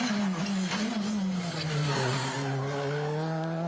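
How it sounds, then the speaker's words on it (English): Rally car tyres squealing on asphalt at ERC Rally Islas Canarias 2023, a sustained tonal chirp that wavers and slides lower over several seconds, faint and distant with engine noise beneath. "You can hear that, just a small squeal, can't you?"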